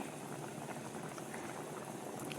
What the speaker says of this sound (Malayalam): നന്നായിട്ട് തിളച്ചിട്ടുണ്ട്